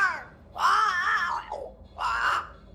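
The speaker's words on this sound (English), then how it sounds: "It's Ceridian, by way of the invisible, speaking through the crow." A crow caws in a video game, Banishers: Ghosts of New Eden, giving two loud, hoarse, drawn-out calls close by, with no talking.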